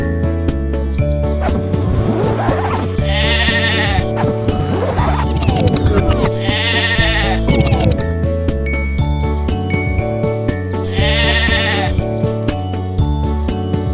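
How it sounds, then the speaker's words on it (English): Sheep bleat loudly in three separate calls, with bells tinkling and a steady musical backing underneath, from a children's animated counting lesson. "3 sheep went out of the pen."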